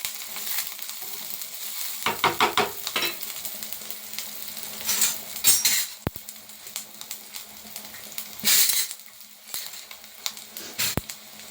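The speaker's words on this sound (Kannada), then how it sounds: "ಸೊ ಸಾಂಬಾರು ಕುದೀತಾ ಇರೋದು ಸೌಂಡ್ ಕೇಳಿಸ್ತಾ ಇದೆಯಾ?" Sambar simmers and boils in a pot with a steady bubbling hiss, broken by a few louder sizzling, stirring bursts; no one speaks.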